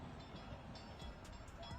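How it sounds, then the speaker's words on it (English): A train approaching on railroad tracks toward a bus stalled across them, heard as a steady, faint, broad rumble and roar with no distinct horn or talk. "and the train was fast approaching."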